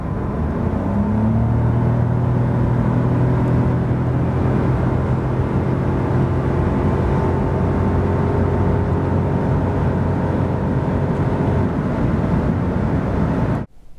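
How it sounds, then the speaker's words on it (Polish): A Mazda 2 Hybrid, a 2022 1.5-litre 116 hp with CVT, accelerates from 90 to 140 km/h: a loud, steady engine drone and road rumble, its pitch slowly rising, heard alone inside the car before cutting off at the end. "Oraz tak od 90 do 140 km na godzinę."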